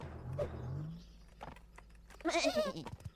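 Cartoon sheep bleats from the puzzle video game Home Sheep Home, a couple of short wavering cries, the second louder and higher, over a quiet background with brief soft knocks.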